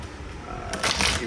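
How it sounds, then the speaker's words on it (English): Tarot cards being shuffled by hand, a brief papery riffling burst that swells in the second half of the short clip, close and moderately loud. "Give you a good shuffle here"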